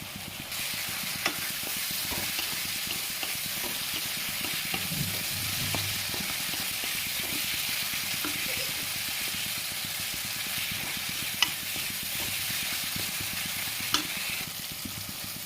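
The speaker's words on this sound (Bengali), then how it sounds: "আলুটা একটু সিদ্ধ হোক, এটার সাথে একসাথে একটু সিদ্ধ হয়ে যাবে, কষানো হয়ে যাবে" Potatoes sauté in a pan for Bengali muri ghonto, a continuous close sizzle and frying hiss with steady stirring scrapes and occasional utensil taps against the pan throughout.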